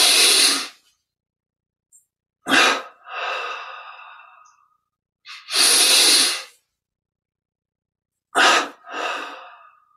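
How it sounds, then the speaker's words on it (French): A person does a breathing exercise, taking sharp double inhales through the nose and releasing long hissing exhales, repeated in clear close cycles with silence between them. "Puis une double inspire, on contracte tous les muscles. Double expire, on relâche,"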